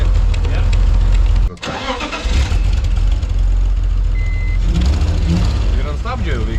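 An old junked car engine cranks and catches after wiring repairs, with a loud close rumble, a brief drop as it starts, then steady running with beeping and people talking over it.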